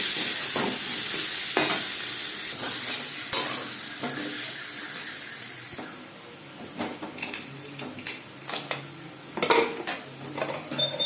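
Potato pieces fry in oil with salt and turmeric, a steady sizzle under frequent clinks and scrapes of a spoon against the pot, the stirring growing busier and louder toward the end.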